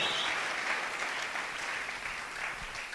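Congregation applauding during a worship service, a dense, steady wash of clapping from many hands that holds at an even loudness throughout, with no voices standing out.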